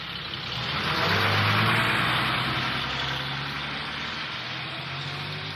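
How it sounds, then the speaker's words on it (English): Truck engine roaring off, a steady mid-pitched rumble that swells over the first two seconds and then settles to a sustained drone, loud and near, with no voices. "the truck roared off"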